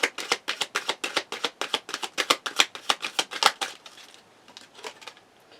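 Oracle cards are shuffled in a quick, rhythmic run of about twenty crisp riffles, close and fairly loud, then a few softer, slower taps trail off at the end, with no talk.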